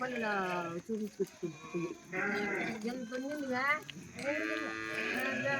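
Several sheep bleat in wavering, drawn-out calls, some close, mixed with voices talking among the flock.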